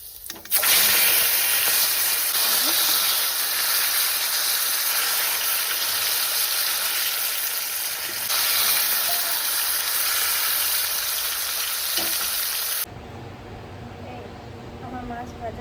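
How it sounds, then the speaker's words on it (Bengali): Fish frying in hot oil in a wok gives a loud, steady broadband hiss and sizzle that runs for most of the stretch, then drops off sharply near the end, leaving quieter background with faint sounds. "আমার মাছ ভাজা হয়ে গেছে"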